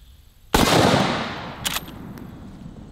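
One very loud, sharp blast from a T-Rex rifle firing a 300 grain Precision One bullet outdoors, followed by a long rolling echo and a faint secondary rattle.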